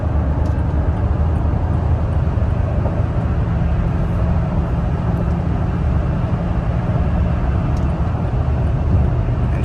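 A Toyota Tacoma truck with an overland torque tune driving at regular throttle, a steady low engine and road drone heard from inside the cab, continuous and fairly loud without talk.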